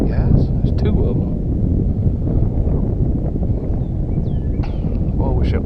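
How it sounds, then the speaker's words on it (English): Steady wind roars across an outdoor fishing spot, a loud continuous rumble buffeting the microphone throughout, with brief voices and faint bird-like chirps over it. "Well, I wish that wind would quit blowing."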